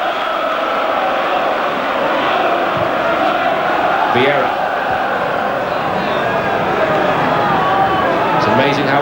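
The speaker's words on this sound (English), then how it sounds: "Now the Highbury crowd find their voice." A steady, loud roar from the Highbury football crowd fills the air during Arsenal v Lazio in the 2000-01 Champions League, with a commentator talking over it.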